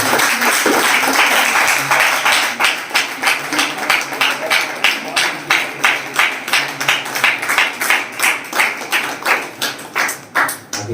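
A congregation at a Hindi Christian church service claps in a fast, steady rhythm, the loud beats evenly spaced and close, with a preacher's voice faintly under the start.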